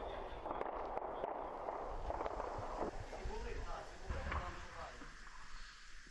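Scattered sharp cracks and pops of distant gunfire from street fighting in Bakhmut ring out over a steady wash of outdoor noise and wind, with people talking faintly throughout.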